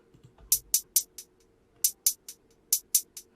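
Crisp hi-hat hits pulse in a bouncy pattern, each with quick fading echo repeats from a delay effect, over a faint low backing; two short phrases separated by a pause.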